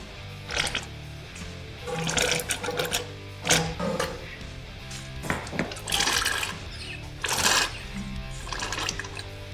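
A hand pump draws old fork oil out of a Harley Dyna motorcycle fork, making repeated wet squelching and sucking strokes in an irregular rhythm, loud and close.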